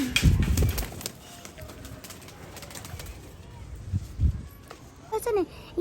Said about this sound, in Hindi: ये हमारे कबूतर, हमारे यहाँ बचपन से कबूतर रहते हैं।